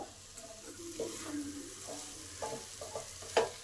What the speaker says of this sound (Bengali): আলুগুলোকে ভালো করে কষে নেব